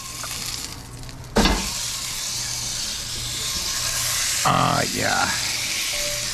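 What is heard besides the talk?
tomahawk steak sizzling as it is flipped in pan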